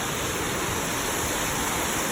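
A large waterfall on a hiking trail roars as a steady, dense wash of rushing water, loud and close.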